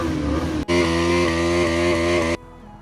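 A Bajaj NS400 motorcycle engine idles steadily and close by, then is blipped into a loud, sustained rev with a strong, even harmonic drone that cuts off abruptly, leaving a faint low rumble.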